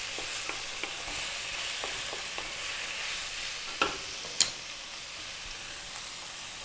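A pan of red kidney beans and mixed vegetables frying, with a steady soft sizzle under repeated light taps and scrapes of stirring, plus two sharper knocks of the utensil near the end.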